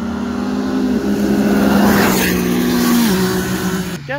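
Can-Am Maverick X3 and Yamaha YXZ side-by-sides drag racing, steady loud engine drone with gear-shift pitch drops around one and three seconds, then a fading finish.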